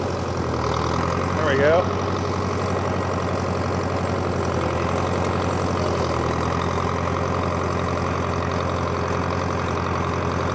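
A John Deere 3020 diesel tractor engine, a 500A that had sat for over ten years, runs loud and steady while driving, a constant low chugging rumble, with brief talk early on.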